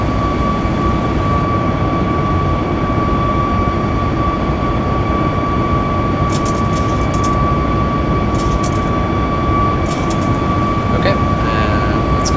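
A Southwest Airlines airliner climbing out of Phoenix under manual control, its engine noise a loud, steady, unbroken cockpit roar with a constant tonal hum throughout.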